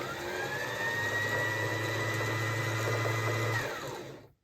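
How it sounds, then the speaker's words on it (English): A sewing machine with a front-loading bobbin winds thread onto the bobbin, giving a steady, even motor whir with a constant low hum that runs for several seconds before spinning down and stopping. "When you're winding a bobbin, you should be looking that the thread is slowly going up and down to create an even feed."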